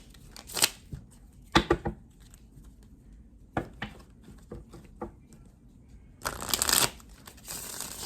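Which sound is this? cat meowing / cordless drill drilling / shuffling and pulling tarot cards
shuffling and pulling tarot cards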